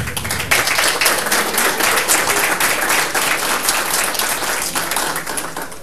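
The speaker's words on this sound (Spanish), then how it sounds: "a quien recibimos con un caluroso aplauso" Steady applause from a crowd fills the whole stretch, dense clapping at an even level with no talking.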